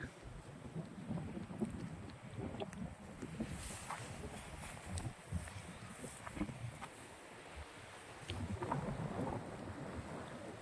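Strong wind sweeps across a cumin field at harvest time, buffeting the microphone with a continuous low rumbling roar and uneven gusts that swell and ease over several seconds.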